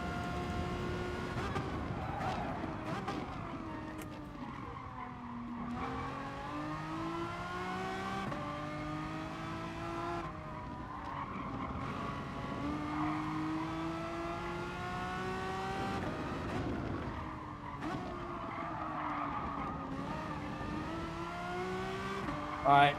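Race car engine in the driving game GT Sport, revving up and down through repeated gear shifts, loud and continuous, with someone talking over it.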